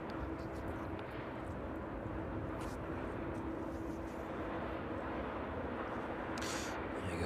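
Two aircraft pass together at speed over East Midlands Airport in the evening, a broad distant engine roar holding steady throughout with a slight rise near the end, no talk.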